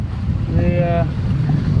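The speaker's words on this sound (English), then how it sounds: "going downwind, got the front sail up. This is how sailing is supposed to be." A sailboat runs downwind with its front sail up through wind and waves, with steady wind roar buffeting the microphone, low water rumble, and a brief thin whistling tone in the middle.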